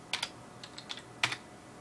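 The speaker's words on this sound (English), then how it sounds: "Tiger, I'm typing with one hand, and it's not typing" Typing with one hand on a computer keyboard during a first PC build, heard as sparse, crisp key clicks in small irregular bursts with short pauses between them. The clicks are close and fairly quiet, with no talking.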